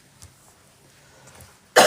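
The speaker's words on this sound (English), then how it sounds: "I went a whole hour without coughing" A single sharp cough bursts out loudly at the very end, after near silence with only faint rustles and breaths.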